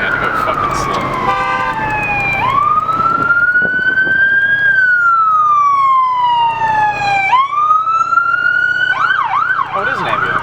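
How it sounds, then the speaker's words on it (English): An ambulance siren sweeps loudly past at close range, its wailing tone rising and falling in long glides before switching to a faster yelp, over steady road noise. "Oh, it is an ambulance, I told you."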